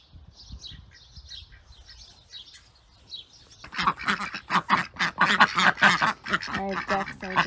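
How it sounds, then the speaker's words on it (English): Ducks on a backyard homestead beside raised garden beds and a coop give a few faint, scattered calls, then a person starts talking over them for the rest of the stretch. "Our ducks are just enjoying a little water break."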